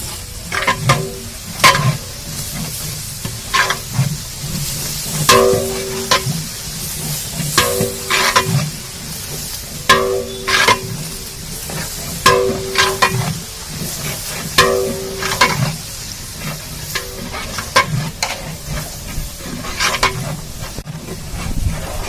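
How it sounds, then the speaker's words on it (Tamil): Coriander and garlic sautéing in a large pot for a 25 kg batch of restaurant-style chicken biryani, a continuous sizzle broken by repeated metallic scrapes and clanks of a stirring ladle at an uneven rhythm, with no talking. "இந்த மல்லி பூண்டு நல்லா வதங்கணும்"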